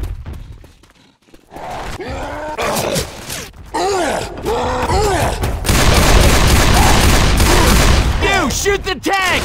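Gunfire bursts in the Left 4 Dead 2 zombie shooter, rapid shots layered over zombie groans and thuds, loud and close, building to a dense barrage while players react during a Tank encounter.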